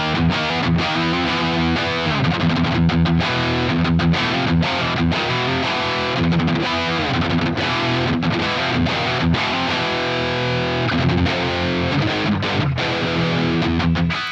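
A Harley Benton SC-1000 electric guitar with a moderately overdriven medium crunch tone plays chords and riffs continuously, loud and full, with no talking.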